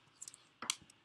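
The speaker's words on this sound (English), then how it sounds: "Let's do this by typing sudo apt get install clang bin" Keys on a computer keyboard are tapped in short, quick clusters of crisp clicks, close and dry, while a command is typed at a terminal, with brief pauses between bursts.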